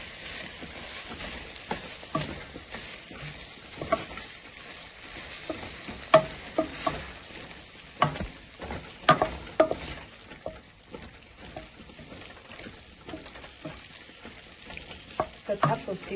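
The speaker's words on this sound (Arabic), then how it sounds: "دابا ان شاء الله غادي نضيف جوج مطيشات مقطعين" Two chopped tomatoes stirred into a pot of barley and chicken soup, with irregular spoon scrapes and knocks over a soft, steady simmering sizzle.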